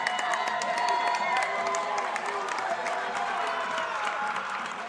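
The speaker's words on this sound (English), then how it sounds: "Now a big round of applause here." A crowd claps steadily in a large echoing school gym at a high school basketball game, the applause dense and sustained with some cheering mixed in, slowly tapering.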